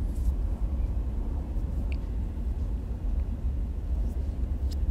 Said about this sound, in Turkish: En nefret ettiğim olay. Fırtına.